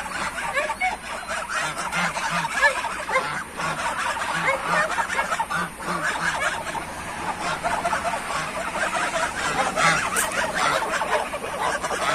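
Adult geese honk loudly and repeatedly as goslings are brought to meet them, a close, busy chorus of overlapping honks and calls with no talking.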